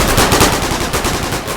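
Loud gunfire from a video game, a dense, continuous burst of rapid shots filling the short stretch at steady close range with no pauses.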